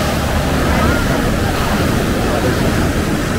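Rough sea waves break on a beach in La Union in a continuous loud wash of surf, mixed with wind buffeting the microphone, while someone talks.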